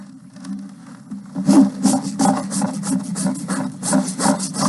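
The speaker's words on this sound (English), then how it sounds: "finish this foot off with my smoother side of my rasp." A hoof rasp files a horse's hoof in close, rhythmic, scraping strokes, about two per second, that grow stronger after a quieter start, with no talking.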